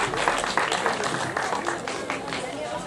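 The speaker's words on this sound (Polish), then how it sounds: "Wielkie brawa." Audience applause at a folk festival in Modlnica, a crowd clapping steadily at close range with rapid, overlapping hand claps throughout.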